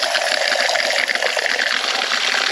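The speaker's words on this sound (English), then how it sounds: "You just put the cap back and it feeds it out like a dispenser." Soda water gushes from a bottle through a dispenser cap into a cup, making a loud, steady fizzing pour that runs unbroken from start to end.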